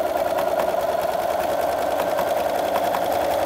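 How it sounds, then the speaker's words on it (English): A Bernina sewing machine stitches a decorative edge on fabric, running with a steady, fast, even hum and rhythmic needle ticking, close and continuous with no talk. "continue around your project, neatening that raw edge with a decorative stitch"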